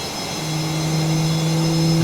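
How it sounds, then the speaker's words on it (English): An F/A-18 Super Hornet jet engine in MS Flight Simulator 2020 spins up during a cold start, a steady whine with a low tonal hum that rises slightly and holds, no voices present. "Yep, engine is engaging"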